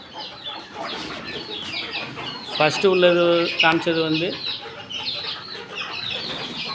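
Country hens kept on a rooftop cluck and call nearby, with one louder, drawn-out squawk in the middle. Someone talks in Tamil over the birds.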